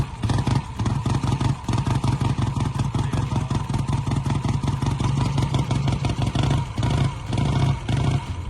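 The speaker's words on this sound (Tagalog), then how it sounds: "The Black Shadow, ang pinakakilalang motor ng Vincent motorcycle." A Vincent Black Shadow motorcycle with a 998cc 50-degree V-twin engine runs at a fast, steady, lumpy idle, with rapid loud mechanical pulses and clatter up close that continue unbroken for over eight seconds.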